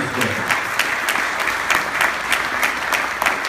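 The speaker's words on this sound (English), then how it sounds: "thank you for the applause" An audience at a dinner talk applauds, a dense, steady wash of clapping with no voices over it.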